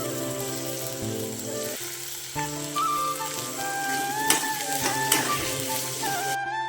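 Onions, green chillies and small shallots frying in hot oil in a pan for Kerala chicken fry, giving a steady close crackling sizzle with a few louder spatters and no voices.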